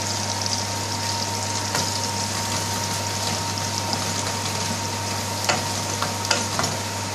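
Garlic cloves fry in a pan with a steady, loud sizzle and crackle, while a few sharp scrapes and clicks of stirring break through near the end.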